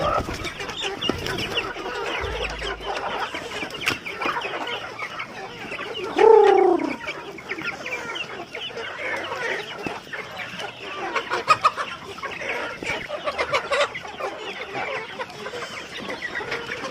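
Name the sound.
chickens clucking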